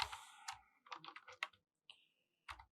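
Typing C code on a computer keyboard, with close, irregular clicks of keys in quick bursts and short pauses, plus one longer held key press.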